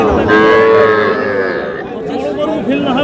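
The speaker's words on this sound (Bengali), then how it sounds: "ষাঁড় বাচ্চা।" Bull calves at a crowded cattle market in Dhaka give a long, loud, drawn-out moo that fills most of the moment, with market chatter and voices around it.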